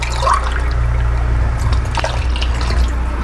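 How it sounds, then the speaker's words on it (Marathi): Water poured into a cooking pot for Maharashtrian masale bhat, a steady close trickle and splash running throughout without a break, with no talking. "अजून आपण दोन वाटी पाणी ह्यामध्ये"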